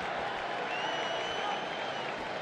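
A sold-out arena crowd at a Hell in a Cell wrestling match applauding and cheering: a dense, steady roar of clapping from a distance, continuous throughout.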